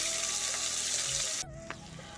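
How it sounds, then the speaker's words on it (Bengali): Onions frying lightly in a pan give a steady, close sizzle that cuts off partway through, leaving a quieter hiss with a brief clink. "পেঁয়াজটা হালকা হালকা করে ভাজা হয়ে গেছে"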